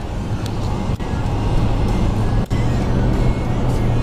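Steady road noise from a car driving through flat eastern Colorado near Two Buttes, a continuous low rumble of engine and tires with two brief dips, no talking.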